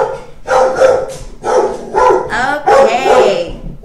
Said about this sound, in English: my dog, seriously, they need to shut up and let me do this review video in peace